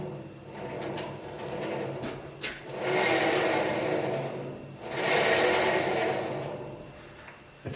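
A Grizzly bandsaw runs with a quiet mechanical hum, and two broad swells of louder whirring rise and fade over several seconds.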